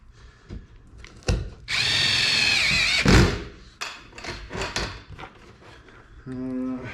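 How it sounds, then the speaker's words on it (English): A power drill drives self-tapping screws into an Eskimo Eskape 2400 ice shelter, with several loud close whirring bursts of varying length separated by clunks and handling noise. "Those self-tapping screws really work nice."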